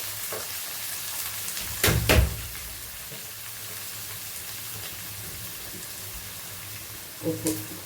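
Onions soften in a pan with a pinch of salt, making a low, steady sizzle. Two short bursts of clattering or stirring stand out near the start and again near the end, and no one speaks.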